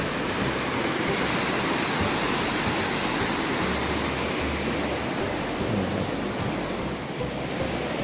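Steady, loud roar of Tat Ton waterfall in Chaiyaphum, Thailand, swollen after rain in mid-August, pouring continuously, a dense rushing wash of water with no voices.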